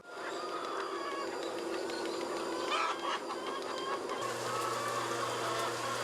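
A flock of farm chickens clucks steadily in a continuous, fairly faint chorus from mid-distance, with no talking over it.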